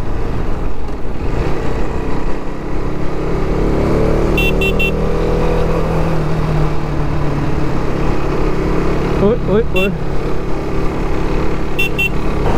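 A KTM RC 390 motorcycle engine hums and drones steadily while riding through city traffic, loud and close throughout, with a voice briefly calling out and faint horn beeps from surrounding vehicles.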